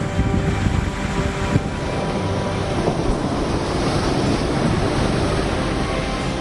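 Stormy sea waves and gusting wind pound Digha beach in West Bengal as a cyclone approaches, a loud, continuous roar of surf and buffeting wind noise with no voices.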